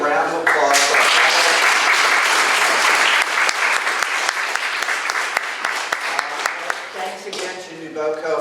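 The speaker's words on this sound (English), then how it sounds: "Can we have a round of applause for our" A crowd at an urban development event in Dubuque applauds loudly and steadily, the clapping swelling quickly and holding for several seconds before tapering off with a few scattered claps at the end.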